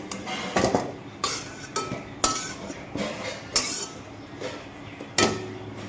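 Boiled bitter gourd is lifted out with a utensil onto a plate, a series of about six sharp metallic clinks and scrapes spaced irregularly, close and clear, with no speech.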